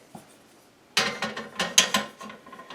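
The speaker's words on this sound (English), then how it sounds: "we hang the TV on here like this" A TV being hung onto a wall mount bracket gives a burst of close metallic clicks and clanks lasting about two seconds, after a quiet start.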